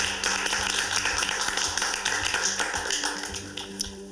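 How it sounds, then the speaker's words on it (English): Applause from a small audience welcoming the top five contestants at a televised VJ search audition in Cape Town, a steady dense patter of clapping hands that carries on without a break and with no talking over it. "Give us all a round of applause for making it this far."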